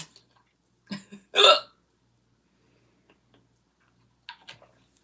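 Hiccups from a person, two sharp close bursts in quick succession near the start and a fainter third one later, with quiet gaps between.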